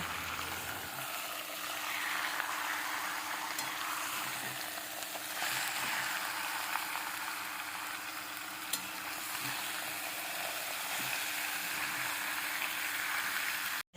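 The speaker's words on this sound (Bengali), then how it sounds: "মাংস আর আলুগুলোকে ভালো করে মশলাগুলোর সাথে ভেজে নিতে হবে" Chicken and potato pieces fry with spices in a pan, giving an even, moderately quiet sizzle that runs continuously, with only a few faint clicks from the utensils.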